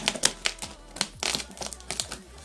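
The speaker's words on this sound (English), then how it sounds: "get through this with the scissors." Sharp snipping and clicking of scissors cutting through the plastic packaging of an LG G7 phone, close up, in quick uneven bursts with brief pauses.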